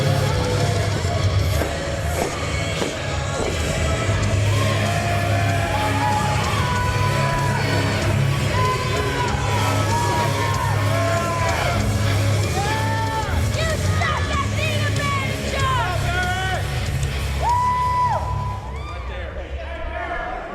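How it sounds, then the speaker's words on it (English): Wrestling crowd cheers for wrestler Barrett Brown, steady loud hubbub with scattered whoops and shouts, while a commentator talks over it. "They're all here to cheer on 50 caliber Barrett Brown."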